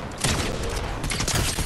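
A heavy shotgun fires during a Fortnite match amid a dense burst of gunfire and impacts, loud and chaotic, with overlapping blasts across the short span and no clear speech.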